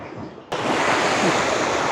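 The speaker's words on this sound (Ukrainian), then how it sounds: "Хвиля аж сюди." Sea surf on the Langeron shore in Odesa swells in after a quiet moment, a broad steady rush of breaking waves with some wind, close and fairly loud.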